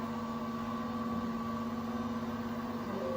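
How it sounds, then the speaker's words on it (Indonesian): A GJ-18 drying oven's dryer running with a steady mechanical hum and fixed tonal whine, constant and moderately quiet throughout, with no voices. "Dryer menyala."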